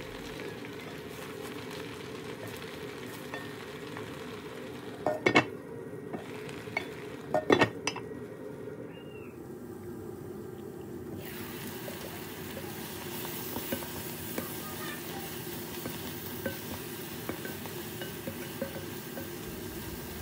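Spinach with bacon, garlic and onion sizzles steadily in a pan, with a few sharp utensil knocks against the pan as it is stirred, then the sizzle brightens.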